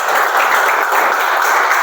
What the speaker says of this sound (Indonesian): Kasih tepuk tangan temennya dulu.